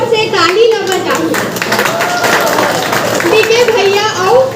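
An audience at a Bilaspur meetup of Chhattisgarhi YouTubers claps loudly and steadily throughout, mixed with excited voices and children's chatter close by.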